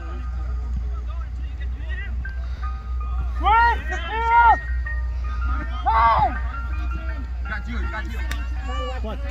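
An ice cream truck's chiming tune drifts across a summer league varsity game, rising in short melodic bursts over a low engine hum, with people talking nearby.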